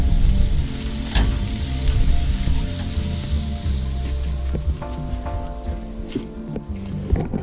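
Pancake batter fries in a buttered pan on a truck camper's stove, a steady close sizzle with clicks and scrapes of a utensil against the iron over a low background hum.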